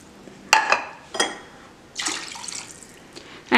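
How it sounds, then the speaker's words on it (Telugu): Water is poured into a pot of rice in short bursts, with several close splashing gushes separated by brief pauses. "సో నేను ఇప్పుడు ఇందులో రైస్కి తగ్గట్టు వాటర్ యాడ్ చేస్తానండి"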